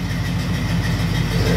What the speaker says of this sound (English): it starts right up and idles perfect